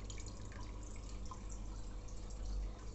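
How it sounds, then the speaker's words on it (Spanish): Water from an aquarium cascade filter rated at 1200 litres per hour pours and drips steadily into the tank, a continuous close splashing trickle with low hum beneath. "ahora ya con el funcionamiento del filtro de cascada. Filtra 1200 litros de agua por hora."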